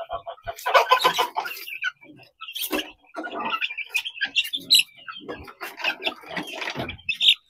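Chickens cluck and squawk close by in lively, overlapping bursts, with short pauses between calls and no talking.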